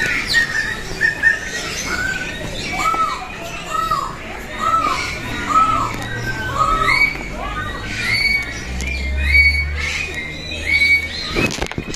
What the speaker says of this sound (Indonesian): Kakatua, masih kakatua ya spesiesnya kayaknya ya. Tapi kakatuanya unik, warna-warni.